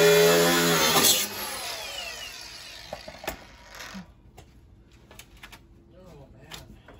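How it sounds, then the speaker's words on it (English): An angle grinder cuts on the rear axle of a bullnose Ford Bronco in a loud, close whine during the first second, then winds down. Clanks and voices follow in a quieter workshop. "why don't you explain why you're using a grinder instead of the torches?"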